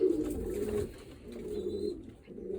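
Sport racing pigeons coo in low, rolling murmurs, several birds overlapping in a steady soft drone, fairly close but quiet.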